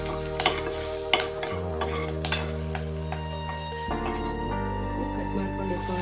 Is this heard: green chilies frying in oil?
yes